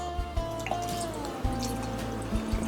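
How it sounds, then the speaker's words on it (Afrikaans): Drink poured into a small glass over ice, close up, with a rising liquid fill tone, some drips and light clinks, and no talking. "so jy kan hom skink tot waar die ysie dryf"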